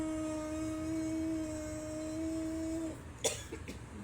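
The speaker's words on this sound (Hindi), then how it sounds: "मुझे बीच में खांसी आ गई थी" A steady low hum stops, followed by a single short cough and a few faint rustles.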